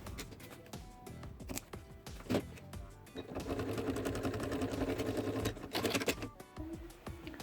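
A domestic sewing machine stitches bias binding onto a double pouch, a steady whirring run of needle strokes that pauses briefly between bursts, close and moderately loud with no talking.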